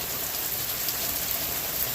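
Steady rain pours down on a wet day in the country, a dense, even hiss of drops spattering on surfaces that holds without a break and with no voices.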